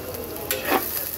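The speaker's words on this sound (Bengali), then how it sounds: "এবার পেঁয়াজটাকে একটু হালকা ভেজে নেব।" Onions lightly frying in a pan, a brief close sizzle with a spatula scrape or two over a low, even hiss.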